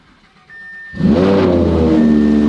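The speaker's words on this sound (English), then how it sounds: "You know we got to get that proper cold start." Lamborghini engine cold start: a brief starter whir, then the engine catches with a sudden loud rising rev and settles into a steady, droning high idle with a strong harmonic hum, close and alone.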